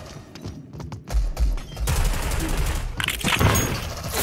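A frag grenade goes off in an online shooter game, a sudden loud blast that rolls into a sustained noisy rumble amid rapid gunfire, with a second burst of noise near the end.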